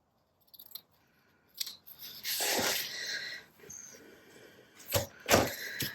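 Scissors snip through lace trim for a journal page: a few close, crisp cutting crunches with brief rustles between them, quiet and without talk.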